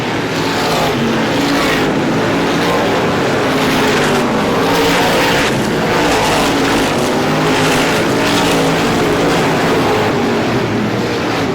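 Race cars roar continuously around an oval track during a 51st Star Classic stock car race, a loud dense wall of engine noise with passing swells as the leaders head into a turn.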